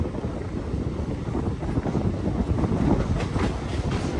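A MEMU commuter train rolls steadily along the track between stations on the Palasa to Visakhapatnam line, its continuous loud rumble and rattle mixed with wind buffeting close to the microphone.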